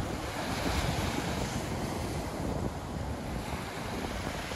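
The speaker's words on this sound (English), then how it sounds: "The surf is coming in at about 2 to 3 feet." Surf of about two to three feet breaks on Pensacola Beach in a constant loud wash of waves, heavily blended with strong wind buffeting the microphone throughout.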